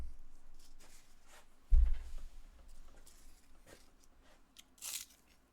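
Crunching bites into a puffed, cooked packing peanut: one loud crisp crunch followed by a few softer chewing crackles, close and with no talk over them.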